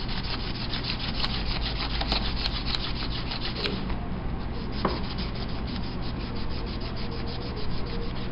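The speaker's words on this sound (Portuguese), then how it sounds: "Com a lixa, passe sobre o coletor do induzido," Fine sandpaper rasps steadily back and forth over the commutator of a starter motor armature, a continuous close scratchy rubbing with no pauses and a few faint clicks.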